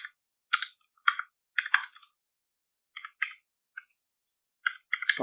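Code typed on a computer keyboard in short bursts of crisp close key clicks separated by brief silences, with no voices.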